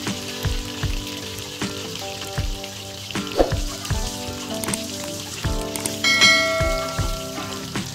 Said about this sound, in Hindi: लो फ्लेम के साथ फ्राइंग करनी है ताकि जो हमारे ड्रम स्टिक्स हैं वो प्रॉपर कुक हो